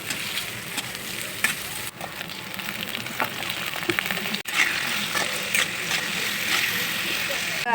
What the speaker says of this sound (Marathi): इथं कांदा पण टाकून घेते परतायला